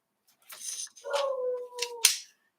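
A dog gives a few yelping, howl-like vocalizations indoors, one stretched tonal cry between shorter bursts, fairly close and clear with no talking over it.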